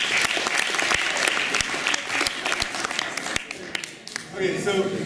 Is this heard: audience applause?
yes